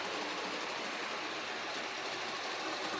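An LGB model tank engine with an extra tender runs steadily along its track, giving a continuous close whirring rumble with no talk over it.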